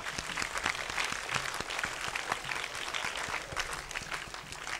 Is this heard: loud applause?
yes